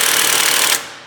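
A hammer pounds rapidly on a car strut during a BC Racing BR coilover install on a 2015 Subaru WRX, giving a loud, dense metallic clatter that cuts off sharply.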